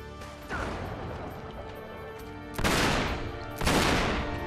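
Gunfire bursts in Uncharted 3: Drake's Deception, heard as two loud broadband blasts after a steady busy game-combat background, each shot sharp and then trailing off.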